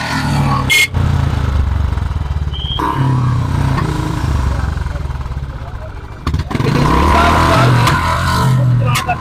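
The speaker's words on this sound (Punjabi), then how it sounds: "ਡੀਸੀਪੀ ਹਰਪਾਲ ਜੀ ਤੁਹਾਡੇ ਸਾਹਮਣੇ ਲਾਈ ਤਸਵੀਰਾਂ ਮੋਟਰਸਾਈਕਲ ਤੇ ਪਟਾਕੇ ਬੰਨ ਦਾ ਚਲਾਨ ਕੱਢਦੇ ਹੋਏ" A motorcycle fitted with firecrackers revs loudly up close, rising and falling in bursts with a brief cut-out, while people talk nearby during a police check in Amritsar.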